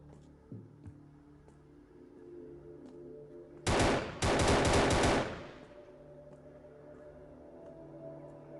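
Two short, loud bursts of automatic gunfire aimed at zombies in the mobile game Outbreak Dead City, a brief volley followed by a longer rattling stream over a low game-ambience hum.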